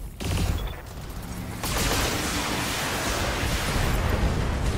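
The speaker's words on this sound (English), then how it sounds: "Firing all weapons." Assault mechs unloading all weapons at once in the Battletech video game: a dense, continuous roar of gunfire and explosions that swells after a moment and stays loud and unbroken throughout.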